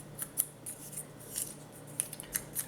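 Scissors snipping paper for a scrapbooking folio, a series of short crisp cuts at an uneven rhythm, close and fairly quiet over a low steady hum, with no voices.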